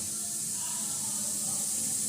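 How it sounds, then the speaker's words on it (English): Automatic ultrasonic sealing machine for cosmetic soft tubes running, giving a steady high-pitched hiss with a faint low hum beneath, continuous and unbroken throughout. "You can hear the ultrasonic sound."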